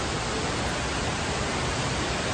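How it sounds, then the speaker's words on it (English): An indoor waterfall at the Opryland Hotel in Nashville pours in a steady, even hiss of falling water, unbroken and moderately loud for the whole short stretch. "Look at the waterfall, hey."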